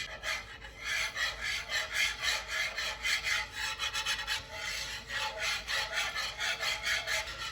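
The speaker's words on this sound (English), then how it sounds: "I'm just gonna whisk it a little bit" Whisk scraping and stirring pan sauce in a hot skillet, with a rapid rhythmic rasping back and forth that is steady and close, with no talking.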